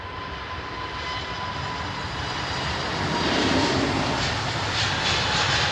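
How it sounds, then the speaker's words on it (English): A KC-135 tanker's jet engines roar loudly at Heathrow Airport, with a steady, broad rumble and whine that swells slightly as the aircraft passes nearby. "Whoever called that KC-135 tanker, thank you."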